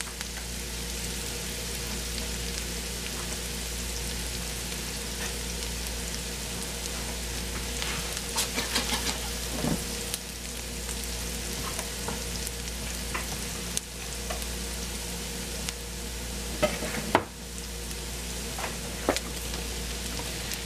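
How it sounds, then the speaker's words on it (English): Onion sautés in a pan for pork chops with mushroom gravy, a continuous crackling sizzle like light rain with occasional sharper pops and faint utensil taps, heard alone without talk. "we're just gonna let the onion kind of saute until it's translucent, almost tender"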